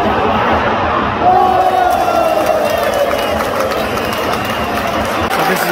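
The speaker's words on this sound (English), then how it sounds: "All the Newcastle fans are also joining in. Some are even singing his name" Newcastle football fans in a stadium crowd, a large mass of voices singing and cheering together, continuous and loud with a held chant rising partway through; a voice talks over it.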